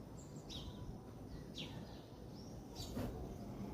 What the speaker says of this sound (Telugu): పిచ్చుకలు అరుస్తున్నాయి.